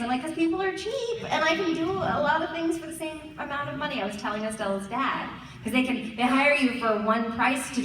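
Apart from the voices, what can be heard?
None of the usual background noises is heard.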